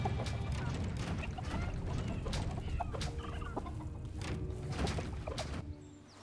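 Chickens on a farm in the video game Dungeons 4 cluck and squawk in a busy, overlapping stream, loud and close throughout before easing off at the very end.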